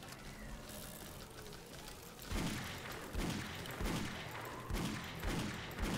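Pistol fire in the survival video game 7 Days to Die, about five spaced shots arriving in a steady rhythm after a quieter stretch of background game noise, with no talking.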